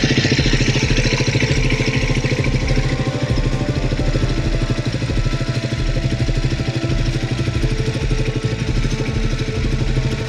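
A Triumph Speed 400 motorcycle engine idles loud and close, a steady low rumbling putter that holds even throughout.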